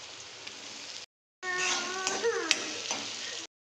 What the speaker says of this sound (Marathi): तेलामध्ये परतून घेतलं